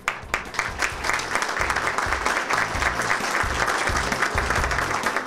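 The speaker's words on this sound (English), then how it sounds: "So give all of you yourselves a round of applause." Steady, dense applause from an audience at a city's State of Our City address fills the room, loud and close, with no one speaking over it.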